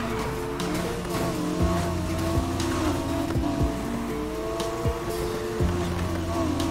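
A Mazda MX-5 races in the NFS Heat video game, its engine droning steadily at high revs. Repeated short tire squeals and thumps cut through the engine noise.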